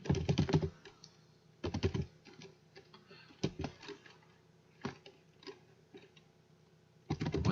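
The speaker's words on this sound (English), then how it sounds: "instead of clicking the word bank labels here, you can also use the keyboard" Bursts of typing on a computer keyboard while entering Chinese, with clusters of rapid key clicks separated by quieter pauses, close and fairly soft, with no voice over them.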